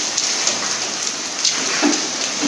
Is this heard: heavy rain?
yes